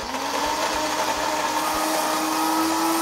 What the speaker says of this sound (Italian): e azioniamo il frullatore